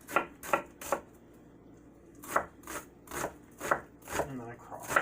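A knife chops an onion on a cutting board for shrimp risotto, sharp crisp cuts landing in quick irregular clusters of three or four, close and fairly quiet, with pauses between.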